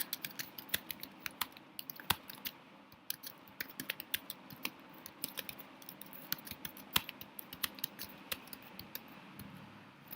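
Someone types a question into a chat on a computer keyboard: irregular bursts of crisp, close keystroke clicks over a quiet room, with no one speaking.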